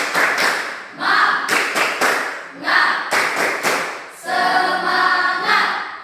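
A classroom does a 'tepuk semangat' rhythmic cheer clap for a pupil, with bursts of patterned group clapping and taps alternating with chanted voices, ending in a longer stretch of voices.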